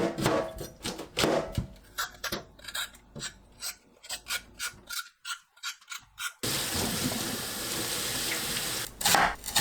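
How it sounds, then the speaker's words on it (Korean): Lotus root being washed under a running kitchen tap, with rhythmic scrubbing and rubbing strokes against the root followed by a steady rush of running water, close and alone. "연근을 씻어서 껍질 벗깁니다."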